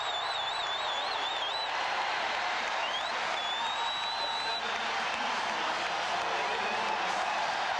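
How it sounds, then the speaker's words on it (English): A large indoor crowd at a college basketball game in Hilton Coliseum, Ames, roars steadily and continuously, a dense wash of cheering and noise with faint whistles on top. "Listen to the crowd in Hilton."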